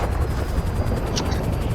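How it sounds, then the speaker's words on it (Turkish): A helicopter falls in the GTA video game, its rotor chopping in a fast steady pulse over a loud low rumble, close and continuous, with brief bright blips partway through. "Düşüyor helikopter düşüyor gel."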